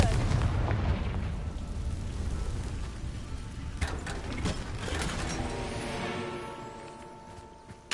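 A Confringo fire spell explodes in Hogwarts Legacy with a loud, rumbling burst that slowly fades into scattered crackles.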